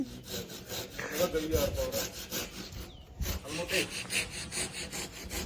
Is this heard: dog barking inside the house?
no